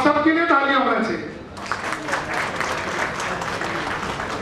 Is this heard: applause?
yes